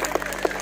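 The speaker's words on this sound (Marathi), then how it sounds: "टाळ्या वाजवते" A group of people clapping at a village gathering, a brief burst of applause made of several quick, close claps.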